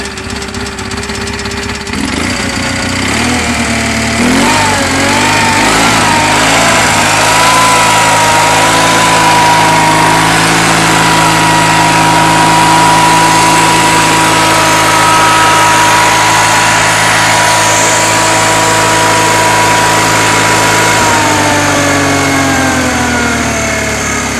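A Case White Knight 328 garden tractor engine with a custom dual exhaust starts and then runs steadily at a fast idle, loud and close, with a rough, buzzing tone that holds throughout.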